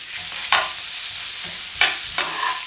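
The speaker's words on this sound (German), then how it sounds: "Die Kartoffeln, so wie sie sind, einfach in die Pfanne geben." Potatoes in marinade sizzle steadily in a pan over low heat while a utensil scrapes and stirs them several times, producing short sharp clatters over the constant frying hiss.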